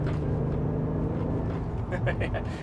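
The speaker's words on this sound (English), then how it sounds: "the exhaust is definitely more boomy in this" A low, booming Alfa Romeo GTA exhaust rumbles steadily from inside the car, with a voice briefly audible near the end.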